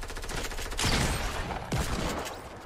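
Gunfire in the video game Fortnite: a rapid burst of shots, then two louder, sharper cracks, each with a short decaying tail.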